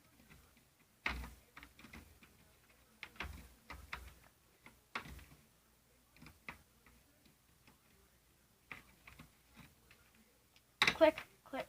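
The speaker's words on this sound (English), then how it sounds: "Click, click, and click. And the light turns on." Fluorescent light tube being fitted into its fixture, a series of close, sharp plastic clicks and ticks scattered over several seconds, ending in a louder snap, with a person talking in between.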